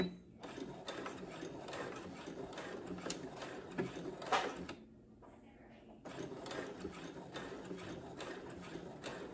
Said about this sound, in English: And then I'm going to back stitch right here.